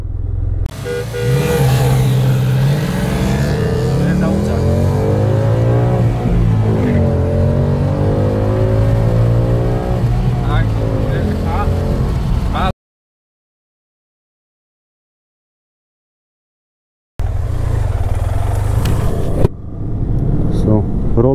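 A BMW F800ST motorcycle and a 2017 Ford Mustang GT 5.0 V8 in a roll-on race, with loud, close engine roar and revving rising through gears, then a sudden cutout to silence before the engine noise returns; a voice talks over it.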